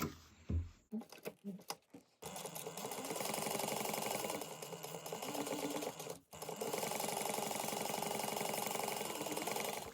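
A sewing machine bastes the layers of a small zippered bag together at an eighth-inch seam, starting after a few short bursts and clicks, then running steadily and close for most of the time with a brief pause midway.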